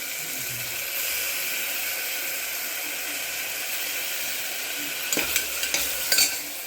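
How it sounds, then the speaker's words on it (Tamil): Ginger garlic paste sautéing with tomatoes in a pan, a loud steady hiss of frying throughout, joined near the end by a few clinking spatula scrapes against the metal. "இஞ்சி பூண்டு பேஸ்ட் போட்டு கொஞ்சம் வதங்கின பிறகு வந்து போட்டுக்கலாம்"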